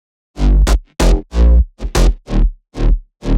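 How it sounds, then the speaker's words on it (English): A heavy, layered synth bass plays a choppy rhythmic pattern of short, punchy notes with gaps between them, loud and deep. "So all the bass layers together sound like this."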